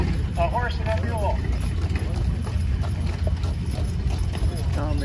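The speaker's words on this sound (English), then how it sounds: "she's driving the horses" A horse and a mule pull a wagon in a parade at a threshermen and collector show in Albert City, Iowa, with steady, close clip-clopping hooves under continuous announcer-style talk and crowd noise.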